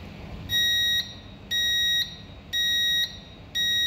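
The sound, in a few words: bridge watch alarm system sounding alarm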